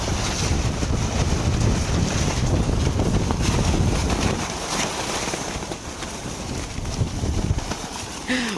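Strong wind batters a tent at a campsite on a rainy night, a steady loud roaring rush with gusty surges and flapping rattles, heavy throughout and easing slightly toward the end, with no talking.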